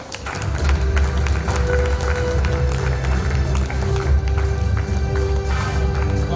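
At an award felicitation ceremony, an audience claps in a dense, steady round of applause that holds loud and continuous throughout, with a faint background murmur.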